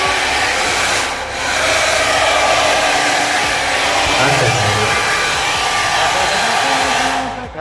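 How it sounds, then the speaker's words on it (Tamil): A hair dryer in a beach resort restroom in Pondicherry blows steadily and loudly from start to finish, a close, constant rushing whir with one brief dip near the start. "இங்கே வந்து நமக்கு வந்து ஒரு ஹேர் ட்ரையர்"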